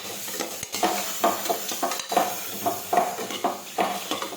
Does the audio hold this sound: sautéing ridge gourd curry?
yes